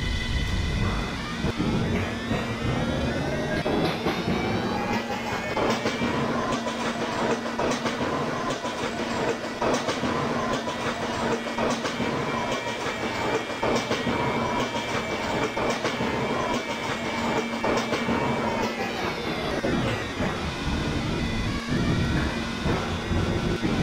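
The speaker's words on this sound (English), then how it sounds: "This is a concourse bound L train." A Roblox R143 Siemens subway train runs on the L line, its motor whine rising and falling over a continuous rumble and rhythmic clickety-clack of wheels on the rails, loud and close.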